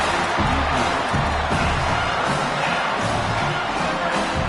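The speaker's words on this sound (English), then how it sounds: "Decibels rising as the crowd gets behind this defense on 3rd down." Stadium crowd at an American football game roars steadily through a third-down defensive stand, a loud, sustained wall of cheering and noise with no break.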